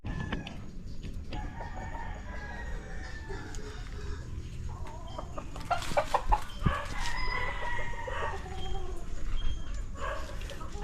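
Chickens cluck and a rooster crows on a rural farm, with a dog barking nearby; the birds grow busier and louder in the second half, with faint talk in the background.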